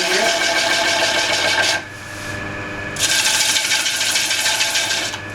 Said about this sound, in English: I will either pick up my inside finisher, or my gouge as I call it, and I'll spear cut it.